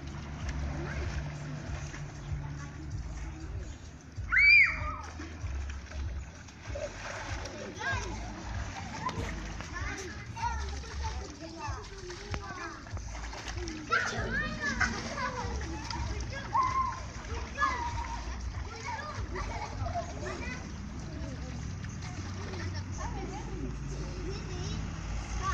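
Children kick and splash water during a swimming lesson, with irregular splashes and sloshing mixed with kids' voices and an adult talking throughout, one sharp bright splash or squeal near the start.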